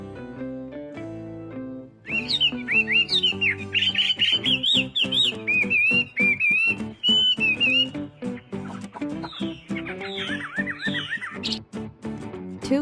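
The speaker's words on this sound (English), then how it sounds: "Parrot." Parrot calling over background music: a run of loud, shrill, warbling whistles and squawks repeated over several seconds, clearly in front of the mix.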